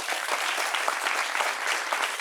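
A studio audience at a French television show claps in a steady, dense burst of applause, close and even for its whole short length, with no voices over it.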